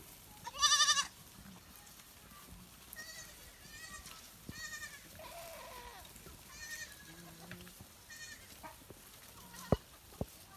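Goats on a farm fed freshly cut grass in hot weather, with several scattered bleats, one loud nearby call at the start and fainter ones following, plus occasional knocks and rustling.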